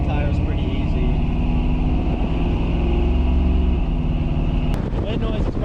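A 2000 Chevrolet Silverado with a built transmission cruises at 60 mph, giving a steady, loud drone of road and engine noise layered with broad wind rush, plus a brief knock near the end.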